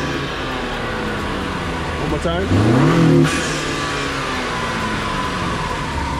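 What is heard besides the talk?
2020 Honda Accord with Rev9 exhaust revving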